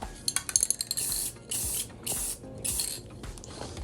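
Several short hissing bursts of spray paint land a coat on a lightsaber hilt in a garage, following a quick rattle of the can's mixing ball. The spraying is loud and close.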